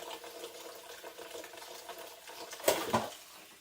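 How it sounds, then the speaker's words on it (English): Garden blackberries are rinsed in plain water, a faint soft trickle and patter with a brief louder splash near the end. "I just wash them with plain water."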